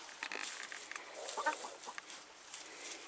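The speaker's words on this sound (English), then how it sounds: "I'm coming, chickens. Opening the coop door." Hens clucking and murmuring softly in a close, enclosed coop, with scattered short calls over a steady rustling background.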